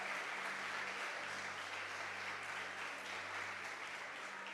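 Applause from a church congregation, a steady dense wash of clapping that holds at an even level throughout, sounding like a large room full of people.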